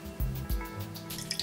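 Water splashes into a container in two quick plops, followed by a soft trickle and a few light drips.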